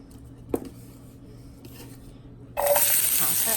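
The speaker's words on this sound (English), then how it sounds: "I'm going to take a little olive oil and put it in my pan" Olive oil hitting a very hot pan bursts into loud, steady sizzling after a quiet stretch with a single clatter of cookware.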